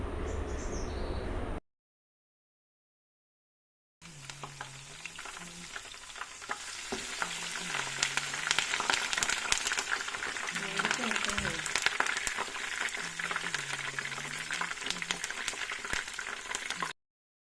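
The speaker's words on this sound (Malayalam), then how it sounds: "വെളിച്ചെണ്ണ മൂത്ത് കഴിയുമ്പോൾ അതിലേക്ക് അഞ്ചോ ആറോ ചതച്ചു വെച്ചിരിക്കുന്ന വെളുത്തുള്ളിയും കറിവേപ്പിലയും കൂടി ഇട്ട് കൊടുക്കാം" Crushed garlic and curry leaves crackle and spit in hot coconut oil, a loud, close, steady sizzle with stirring that follows a short silent gap and then runs unbroken to the end.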